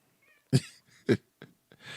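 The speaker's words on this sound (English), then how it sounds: "Here's the cat." A cat meows four times in short, separate calls: two louder, fuller ones followed by two softer, briefer ones, close by with quiet gaps between.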